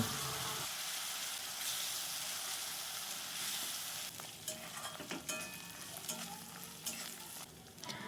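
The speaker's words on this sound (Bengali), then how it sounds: "পেঁয়াজ বাটাটাকে আমি লাল হওয়া পর্যন্ত ভালো করে কষিয়ে নেব।" Onion paste is stir-fried in a pan for a Bengali doi katla dish. It gives a steady, close sizzle and hiss, with intermittent scraping and stirring clatter and no talk.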